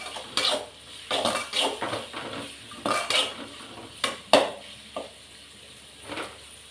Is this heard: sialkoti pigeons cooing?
no